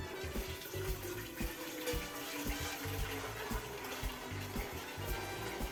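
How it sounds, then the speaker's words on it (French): Water pours steadily into a cocotte, two litres going in as the base for a pot-au-feu broth, a continuous splashing flow with some low clattering knocks throughout. "je verse les 2 litres dans la cocotte"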